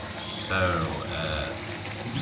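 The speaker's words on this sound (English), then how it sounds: "I'm adding some more hot water" Hot water is poured in, giving a continuous rushing, bubbling flow at close range. A voice talks over the running water.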